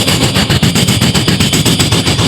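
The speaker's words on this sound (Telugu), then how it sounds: "ట్రైన్ వెళ్తుంది అనుకోండి" A passing-train sound effect, loud and close, with a steady rapid rhythmic clatter pulsing over a dense roar for the whole short stretch.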